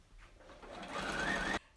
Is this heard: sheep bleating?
no